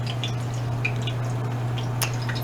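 Crab cakes frying in a pan, a low steady hum under scattered small pops and bubbling drips, fairly quiet and close, with no talking.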